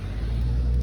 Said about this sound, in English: I think there's a car coming this way